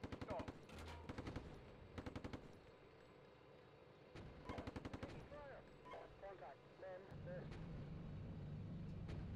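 Machine gun fire in the tank simulator Steel Beasts Pro PE, with several short bursts of rapid shots spread across the clip under distant voices and steady vehicle engine rumble.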